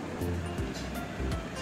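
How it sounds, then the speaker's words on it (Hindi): Gram flour batter being whisked with water in a bowl, giving rhythmic swishing strokes roughly every half second, close and fairly loud, with no talking. "बेसन को हमने पानी डालकर बहुत अच्छी तरह से फेंटना है इन तमाम चीज़ों के साथ।"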